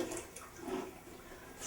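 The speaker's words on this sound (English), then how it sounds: "This is just straight tap water" Tap water runs in a steady, soft hiss while being collected to cool a still's condenser, faint and continuous, with no one talking.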